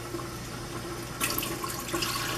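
Tap water runs steadily while smoked steelhead or salmon fillets are rinsed before going onto racks, a constant close hiss that grows louder and splashier partway through as the flow hits the fish.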